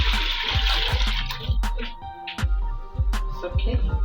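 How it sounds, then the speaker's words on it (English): Drinking water poured into a cooking pot for kimchi rice, a steady splashing, gurgling pour with repeated low thumps and clinks of kitchenware nearby. "Now we'll now add a drinking water."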